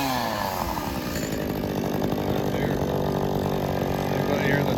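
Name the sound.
John Deere chainsaw running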